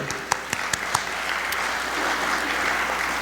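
Conference audience applauds event sponsors, starting with a few sharp individual claps before swelling into steady, fairly soft group clapping that continues to the end.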